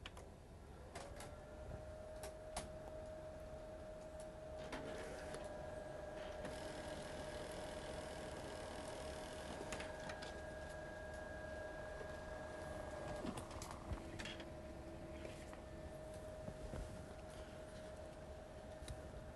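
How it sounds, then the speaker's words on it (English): A printer runs steadily, drawing a transfer sheet through with a sustained mechanical hum, a whine and occasional clicks and clunks, faint and continuous. "we're going to send this sheet through our printer"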